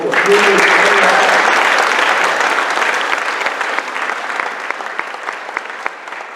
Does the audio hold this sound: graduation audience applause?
yes